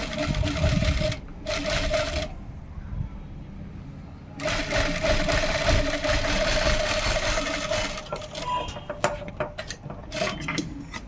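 Sewing machine stitching lace onto a blouse sleeve, close and distinct, running in bursts of rapid rhythmic needle clatter separated by short pauses, with handling noises between runs.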